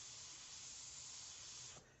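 An airbrush is blown out in a steady, loud spray hiss that runs for about two seconds and eases off at the end, with no talking.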